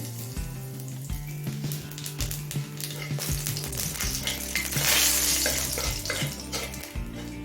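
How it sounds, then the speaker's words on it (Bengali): Black cumin seeds dropped as a tempering into hot oil left from frying fish, for a Bengali fish curry, crackle and sizzle steadily throughout with busy spitting bursts and no talking. "এবার এই একই তেলের মধ্যে দিয়ে দিচ্ছি হাফ চামচ কালো জিরে ফোড়ন।"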